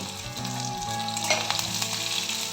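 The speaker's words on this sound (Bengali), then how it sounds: "সরিষাটা একটু ফুটিয়ে নিক ফুটতে শুরু করেছে" Mustard seeds splutter and crackle in hot oil for a tempering, a dense close sizzle with sharper pops building toward the end, and no one speaking.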